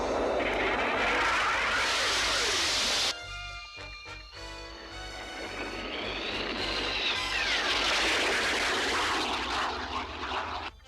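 The Starfire spaceship's engine roars and accelerates. A loud sustained roar cuts off abruptly, then a rising, sweeping engine whine builds again and holds strong.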